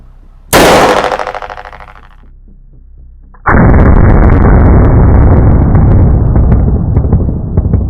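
A homemade Thai break-action shotgun fires a full 9-pellet buckshot load at a target a few paces away. One very loud, close blast decays over about a second and a half, followed by a long, loud, steady roar of noise.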